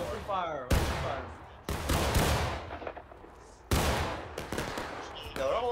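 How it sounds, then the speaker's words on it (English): Musket volleys in the Civil War game War of Rights, four loud sharp cracks spaced a second or two apart, each trailing into a long rolling echo, with voices shouting among the shots. "Open fire, open fire, open fire."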